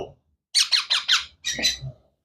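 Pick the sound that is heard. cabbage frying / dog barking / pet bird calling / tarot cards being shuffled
pet bird calling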